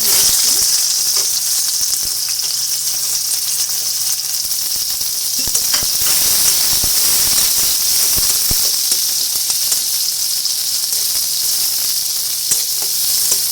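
Chopped onions fry in hot oil left over from frying eggs. A loud, steady hiss and sizzle runs throughout, with occasional faint stirring clicks.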